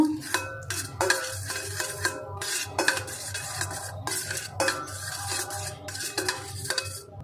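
Chilli pasta ingredients mixed by hand in a bowl, with a spoon clinking and scraping against the sides in a steady, irregular rhythm over a low background hum, close and moderately loud.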